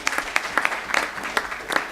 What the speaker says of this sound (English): Let's give Irene a round of applause.